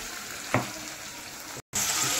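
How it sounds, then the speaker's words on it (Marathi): Masala paste of ginger-garlic and mutton masala frying in hot oil, a continuous bright sizzle with one sharp spit near the start, briefly cut off then returning louder. "तेल थोडं गरम झालं की लगेच ही पेस्ट आपण आधी घालून घेऊ"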